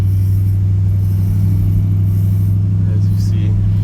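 Steady deep engine rumble from a 1956 Ford Fairlane Tudor Victoria as it runs and drives, continuous and close, with a few faint higher sounds near the end.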